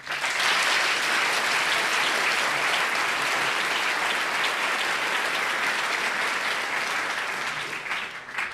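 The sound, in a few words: audience applause for students and alumni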